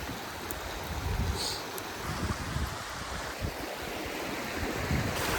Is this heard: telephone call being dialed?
no